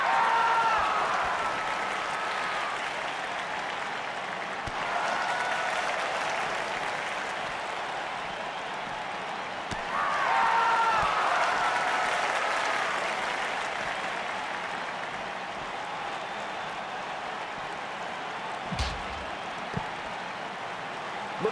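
A capacity arena crowd in the wrestling video game WWE 2K19 roars and applauds steadily throughout, swelling in waves with faint whistles on top and no one talking over it.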